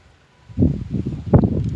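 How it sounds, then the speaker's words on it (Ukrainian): Gusty wind buffets the microphone in low rumbling bursts after a brief quiet start, loud and close. "Може погано буде чути, бо вітер серйозний"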